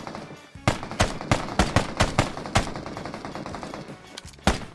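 An M417 rifle firing in PUBG Mobile: a rapid series of about a dozen sharp, close shots in quick succession, a short pause, then one more shot.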